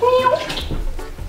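Laundry washing soda poured into a bucket of warm water for homemade laundry detergent, giving a short, close splashy pour over a steady watery wash with no talking.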